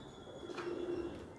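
Pigeons, a fancy Salara breed among them, perched in a loft give a soft, low continuous cooing that swells in the middle, close by, with faint chirps and no talk.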